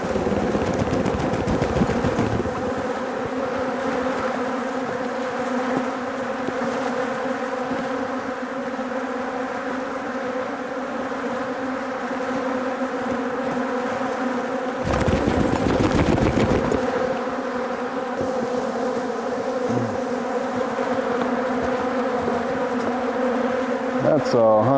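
A dense, steady buzz of many honey bees swarming around an open hive, a layered drone that holds throughout with a couple of brief louder bursts of handling noise.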